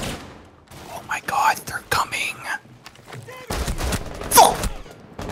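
Enemy gunfire in a video game crackles in scattered bursts, ending in a louder sustained volley, mixed with quiet voices and whispering.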